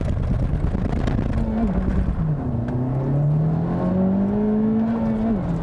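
A front-wheel-drive Honda Civic Type R makes a hard launch with wheel hop: loud, steady engine roar rising in pitch through the revs, with brief dips as the power cuts in and out. No talking.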